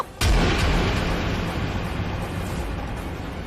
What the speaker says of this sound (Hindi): बंदूक की आवाज कहां से इतनी रात को?